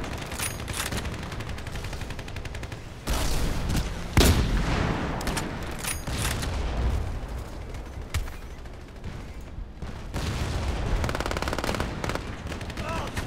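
Automatic gunfire in the online shooter Battlefield Play4Free, dense rattling bursts of rapid shots with occasional heavier booms, loud and continuous throughout, mixed with game ambience.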